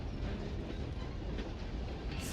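Train rolling across a bridge in the Red Dead Online video game, a steady dense rumble of wheels and cars with faint clickety-clack, loud and continuous throughout, no talk.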